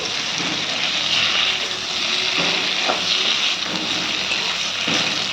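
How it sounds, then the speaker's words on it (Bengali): Paneer frying in a pan, a steady loud sizzle with broad hiss that carries on evenly with faint stirring scrapes and no talk. "দেখো পনিরটাও আমি ভেজে নিচ্ছি"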